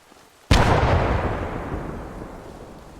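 Hand grenade blast in Arma 3 on the Chernarus map: after a quiet moment, one loud, sudden explosion booms close by, then a long rumbling tail slowly fades away.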